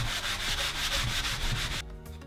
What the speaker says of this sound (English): I'm gonna give it a good sanding one more time before putting this last coat of finish on.